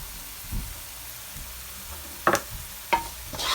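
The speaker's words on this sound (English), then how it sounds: "Give it a stir." Onion and garlic sizzle softly in a pan as a spoon stirs them, a faint frying hiss broken by a few brief scraping clatters near the end.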